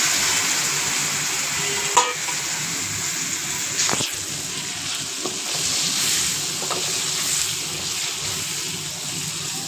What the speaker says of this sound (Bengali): এবার আগে থেকে টুকরো করে রাখা আলুগুলো দিয়ে ভালো করে কষিয়ে নেব।